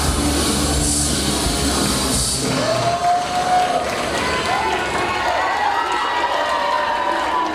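A wrestling crowd at an event in New Bedford, Massachusetts roars and cheers as a steady wash of noise while a commentator talks over it.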